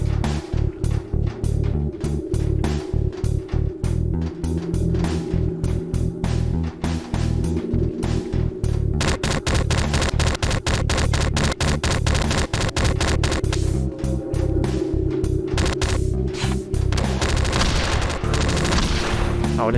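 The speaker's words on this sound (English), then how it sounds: "That one had a machine gun." Rapid machine gun fire crackles through the shooter game Froggy Shoot Out, sharp rhythmic bursts of shots interrupted by brief pauses, then denser sustained volleys over a steady droning background.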